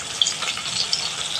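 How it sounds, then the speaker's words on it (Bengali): Fish frying in oil in a Bengali home kitchen, a steady hiss and crackle with a few sharp spits, close and alone. "একটু তেলটা এইভাবে দিয়ে মাছটা আমি ভেজে নিচ্ছি"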